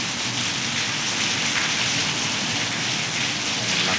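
Heavy rain pours down in a dense, steady roar, loud and close, with no gaps and no talking over it.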